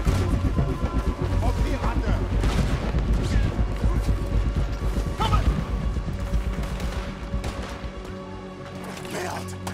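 Cannon fire and gunfire during a battle in the video game Red Dead Redemption 2, with loud repeated booms and crashes over dense, continuous combat noise while voices shout throughout.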